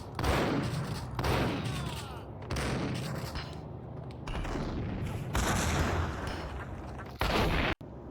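Grenade explosions and heavy gunfire in the Max Payne video game, a dense, loud continuous barrage of blasts and shots with a sharp cutoff near the end.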